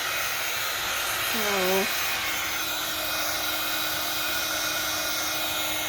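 A hair dryer blows steadily and loudly on a journaling book page, its constant whirring rush running the whole time while a voice speaks briefly near the start.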